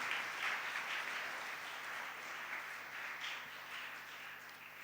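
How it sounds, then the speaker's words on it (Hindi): A church congregation applauds the sisters at a Sunday Mass, a steady wash of clapping heard faintly from a distance with no break. "भरपूर तालियों में अपनी सिस्टर्स के लिए"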